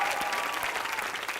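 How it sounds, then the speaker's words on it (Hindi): Studio audience applause on an Indian entertainment talk show, a steady dense wash of clapping filling the whole brief moment, fairly loud and even with no voices over it. "तालियां for that."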